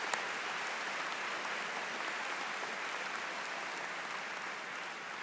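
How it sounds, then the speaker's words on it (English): A university fall commencement audience applauds steadily, broad even clapping from a large crowd filling the hall at constant loudness throughout. "join me in a round of applause for all of you who are with us today."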